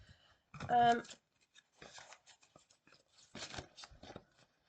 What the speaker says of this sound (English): I've got to shuffle them this way because they're quite big cards.